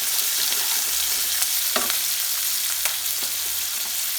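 Onion, ginger and garlic frying in a pan for homemade momo, with a steady hiss of hot oil and a few soft stirring scrapes, close and continuous.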